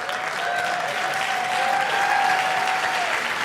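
Audience applause at a jazz congress keynote session, a dense, steady wash of clapping from a sizable crowd that holds at full strength throughout.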